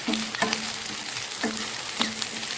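Vegetables sautéing in a hot pan for restaurant-style Chicken 65, a steady broadband sizzle with periodic scraping stir strokes, close and continuous with no voices.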